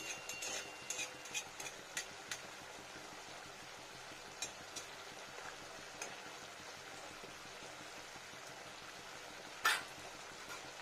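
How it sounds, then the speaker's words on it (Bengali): Curry bubbles and fries quietly in oil in a pan, a faint continuous sizzle broken by several sharp clinks and taps, one louder near the end. "কত সুন্দর ফুটছে, আর এটা ফুটতে ফুটতেই হয়ে যাবে সুন্দর অয়েলি অয়েলি"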